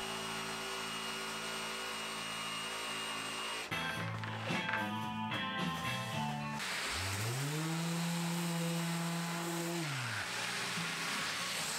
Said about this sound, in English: I can then make all the straight cuts with the track saw and use the jigsaw to cut the curves